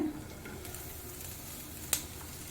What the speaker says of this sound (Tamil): கோவக்காயும் அந்த எண்ணெயிலே ஒரு ரெண்டு மூணு நிமிஷம் நல்லா வதக்கிக்கோங்க